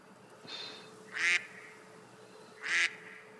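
Ducks in a video game quack a few times in short, nasal bursts, two louder calls spaced apart, fairly close over a quiet background.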